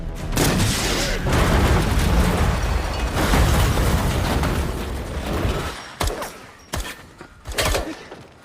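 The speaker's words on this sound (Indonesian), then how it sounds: "Sampai Nick pun muncul dan langsung ditembak menggunakan basoka sampai mobilnya terbalik." A bazooka blast flips a car in an action film, a long loud roaring explosion followed by a few sharp bangs and debris impacts as it dies down.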